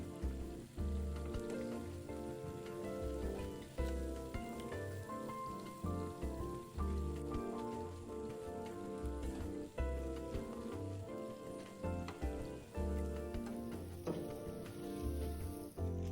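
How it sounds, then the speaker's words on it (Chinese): Potato chive cakes deep-frying in hot oil, a steady dense crackling sizzle throughout, close and fairly quiet with no talk. "油溫穩定後，就可以一次過多油炸幾個。"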